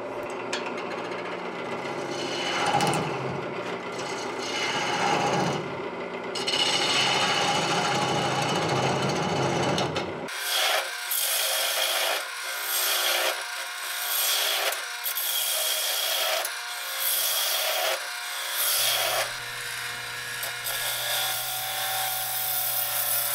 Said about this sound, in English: So this is my first time turning tamarind, and I gotta say, I love it.